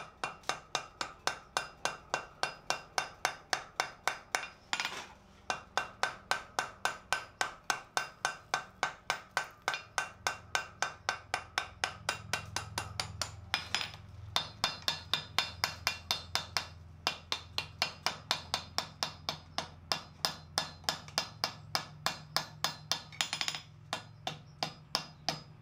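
Steady, evenly spaced hammer blows ring out on hot steel while a vice barbell is forged, dozens of sharp metallic strikes in a quick regular rhythm with brief pauses between runs.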